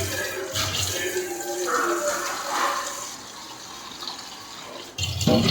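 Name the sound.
tap water running into a vessel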